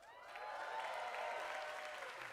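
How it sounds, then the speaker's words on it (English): Audience applause fills the hall at the 21st BOH Cameronian Arts Awards ceremony, a steady, dense clapping that swells quickly and holds at full strength for a couple of seconds without voices over it. "keep the applause going for May Elisa, Alicia Dana, Aidila Shafi"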